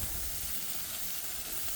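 Sausages or bacon sizzle in a frying pan on low heat with a steady, dense hiss, close and continuous.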